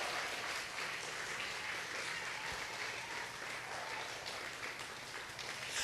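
A church congregation applauds during a sermon, a continuous, fairly distant wash of clapping from many hands with no talk over it.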